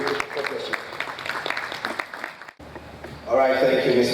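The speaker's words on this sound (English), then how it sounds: "Please, a round of applause for him once again." An audience at a business roundtable breaks into steady applause that swells near the end, following a stretch of speech over the public address.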